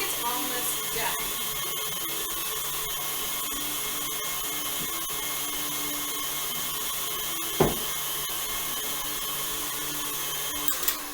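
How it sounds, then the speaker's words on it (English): Buttercream frosting is being whisked with a steady, faint whirring whine that runs throughout, broken by a couple of brief knocks and clatters. "I'm just gonna whisk that just a little bit more"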